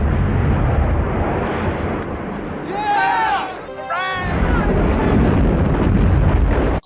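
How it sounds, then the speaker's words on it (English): Explosions roll through a scene in the film Jaws 5: Cruel Jaws as a loud, continuous broadband rumble, with a brief whistling, warbling sweep rising over it midway. "it's followed by a wave of explosions."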